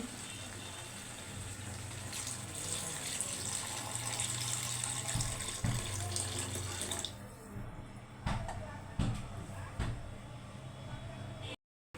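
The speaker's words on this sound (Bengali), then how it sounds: "এখন আমি পানি দিয়ে দিচ্ছি" Water poured into a pan of fish curry made with local shing catfish, a steady close pouring and splashing wash that runs several seconds, then thins into intermittent splashes and drips under light kitchen noise.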